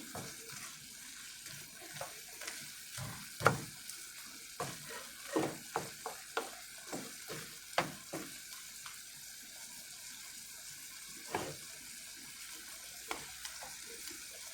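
Meat broth sizzles and bubbles in a hot pan while potatoes cook, with scattered crackles, pops and stirring knocks over a steady low frying hiss, close and moderately quiet.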